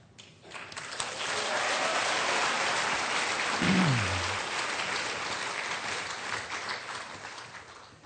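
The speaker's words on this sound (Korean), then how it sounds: "나오실 때에 큰 박수로 할렐루야를 환영하겠습니다." A church congregation claps loudly in welcome as a preacher comes forward, a steady wash of hands swelling after a quiet start and holding to the end.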